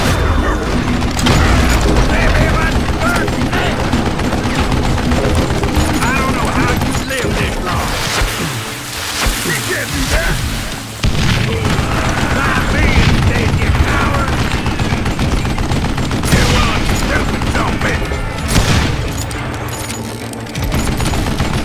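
Sustained bursts of Gatling gun fire in the western shooter Call of Juarez: Gunslinger, loud and dense rapid shots with booming impacts and crashes, continuing for over twenty seconds with a brief lull midway, with a voice occasionally talking over it.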